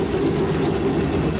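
A B-24 bomber's piston aircraft engine idles near 1,000 RPM with a steady, loud low-pitched drone and throb, continuous and unbroken throughout.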